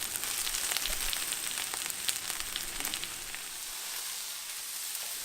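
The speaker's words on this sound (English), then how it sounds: "I'm now going to stir fry the vegetables in about a tablespoon of oil." Vegetables stir-frying in about a tablespoon of oil, a steady bright sizzle with scattered crackles and pops throughout, fairly faint and continuous, with no voices.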